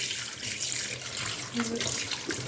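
Running tap water rinsing blood off cut fish, a close, steady splashing stream into a sink with small shifts as the pieces are handled, while a person speaks over it.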